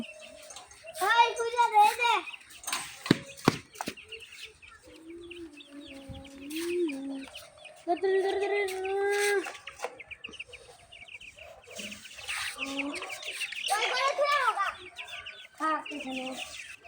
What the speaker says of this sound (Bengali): আরিয়ান, এই নাও মুরগির বাচ্চা, খাবার খাইয়ে দাও